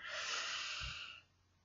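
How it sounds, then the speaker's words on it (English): A person takes a deep belly breath, inhaling essential oil: one long, soft, airy breath close up that fades near the end, heard alone. "just really inhale pretty good, pretty deeply down to the bottoms of your lungs"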